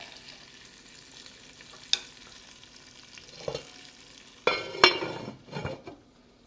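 Sausage browning in a frying pan for Dublin coddle, a steady sizzle with occasional scrapes and stirring clatters of a utensil against the pan, louder bursts near the end.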